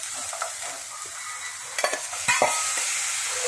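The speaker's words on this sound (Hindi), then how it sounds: "उसमें ये सारी सब्जियां मैंने डाल देती हूँ और इसको थोड़ा सा ऐसे ही भूनना है।" Vegetables and onion fry in a hot wok with a continuous hiss, broken near the middle by a few sharp scrapes and clatters of stirring before the steady sizzle returns.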